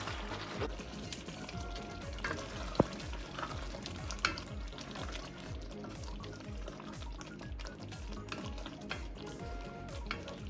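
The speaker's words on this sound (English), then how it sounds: "Now I'm adding my red pepper in there." Red pepper fries in a pan on a stovetop with constant crackling sizzle and repeated scraping stirs, plus occasional sharp clicks of a utensil against the pan, close and moderately quiet.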